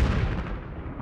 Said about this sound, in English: There's an unnecessary explosion